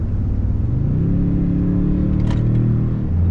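A 2022 Toyota Tundra accelerating hard, heard from inside the cab as a loud, steady engine rumble whose pitch rises as it builds speed, with no talking.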